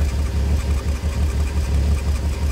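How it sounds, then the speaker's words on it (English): Volkswagen T4 V6 van idling with a leaking exhaust clamp joint, a steady, loud, close low rumble with an even, unbroken throb and no voices. "Just letting the car idle and the pipe warm up a little bit. I can definitely hear a leak coming from this joint in the clamp."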